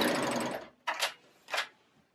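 A serger sewing machine stitches fabric seams on bowl cozies, running in a longer whirring burst and then two short separate runs with quiet pauses between, heard up close.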